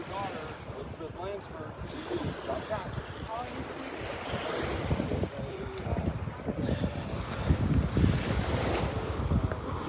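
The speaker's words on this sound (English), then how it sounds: "The breeze is coming a little bit more now from the east than the north." An east-northeast breeze blowing at Delnor-Wiggins beach rumbles steadily across the microphone over surf, growing stronger toward the end while someone talks.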